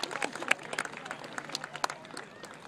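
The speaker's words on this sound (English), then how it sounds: "Give them a round of applause." A crowd at a rodeo grand entry claps and cheers in a large space, bursts of applause with scattered sharp claps and shouts, fairly distant.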